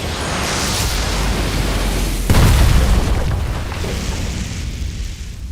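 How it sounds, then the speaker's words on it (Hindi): An anime sword skill attack, Divine Slash, lands as a sudden heavy boom that erupts midway through a loud, noisy rushing wash and then slowly decays. "ये स्वॉर्डमैन ब्रांच की स्किल थी, डिवाइन स्लैश।"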